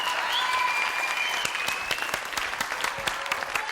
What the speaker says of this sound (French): Applaudissements pour Marc Jolivet.